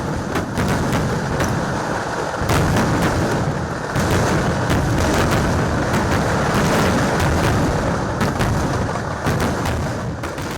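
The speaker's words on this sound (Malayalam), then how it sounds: "പൂരനഗരിയുടെ ആകാശത്ത് വർണ്ണവിസ്മയം തീർത്ത് സാമ്പിൾ വെടിക്കെട്ട്." Sample fireworks for Thrissur Pooram, set off by the temple boards before thousands of spectators: a dense, continuous barrage of booming and crackling explosions, loud and sustained, with sharper bursts standing out from the roar.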